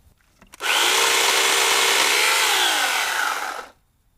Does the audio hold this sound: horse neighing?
no